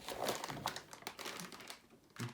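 Thin plastic bag crinkling in quick bursts close to the mic while an MSI Armor AMD Radeon RX 570 graphics card is unboxed, with brief rustles and pauses.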